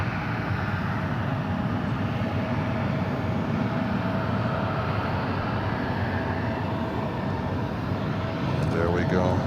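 An airplane takes off from runway 36 left at Charlotte airport, its engine roar loud, broad and constant from start to finish, with radio talk in the background.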